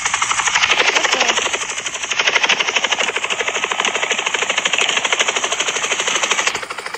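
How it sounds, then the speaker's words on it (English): Helicopter in a video game, its rotor chopping in a steady rapid pulse, loud and close, holding nearly unchanged for the whole stretch with no talk over it. "Why is there a helicopter?"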